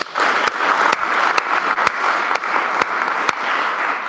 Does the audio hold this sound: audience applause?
yes